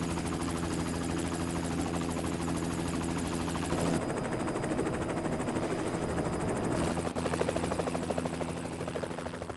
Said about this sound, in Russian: Сбейте вертолет!